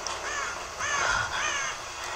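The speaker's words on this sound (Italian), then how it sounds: "Cornacchia." A crow caws in the video game Tomb Raider (2013), three or four harsh, rasping calls in a row against a faint ambient background, with no talking.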